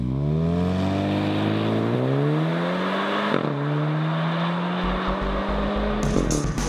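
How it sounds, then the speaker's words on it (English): A Seat Leon Cupra sports car engine revs hard through several rising gear changes, its exhaust roaring loudly and close, ending in a sharp crackle. "when you hear the noise coming out of those exhaust pipes"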